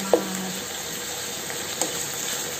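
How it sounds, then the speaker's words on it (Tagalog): Pork frying in oil in a pan, giving a steady low sizzle throughout with a couple of brief clicks, no talking. "Mas masarap siya pag medyo na piprito-prito siya diyan sa mantika."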